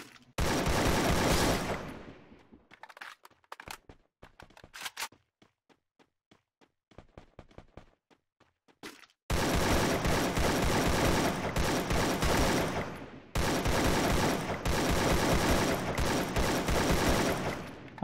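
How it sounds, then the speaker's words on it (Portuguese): Dense bursts of automatic gunfire in the video game Free Fire rattle loudly, separated by a stretch of scattered single shots and quiet, then resume in long sustained volleys. "Caramba, tiro tudo quanto é lado aqui."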